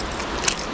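Keys jangle briefly and close by, a soft metallic rattle with one sharper clink near the end over steady background noise, as someone tries a set of keys on a 26-foot U-Haul truck.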